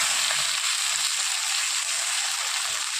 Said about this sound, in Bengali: ভালো করে আলুটা হালকা লাল করে ভেজে নেব।